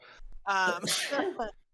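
A single sharp sneeze bursts out close by, preceded by a quick breathy intake, with a brief voice fragment around it.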